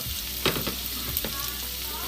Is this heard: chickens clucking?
no